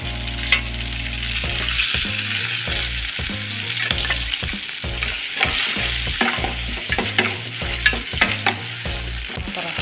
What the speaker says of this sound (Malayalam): ജിഞ്ചർ ഗാർലിക് പേസ്റ്റാണ്, അത് പച്ച മണം മാറുന്നത് വരെ ഇട്ട് കൊടുക്കുക